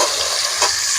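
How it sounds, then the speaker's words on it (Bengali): Chopped onion and tomato frying in a pan, a loud, dense, continuous sizzle close up with a brief stir partway through. "পেঁয়াজ টমেটোটুকু ভালো করে ভেজে নিচ্ছি"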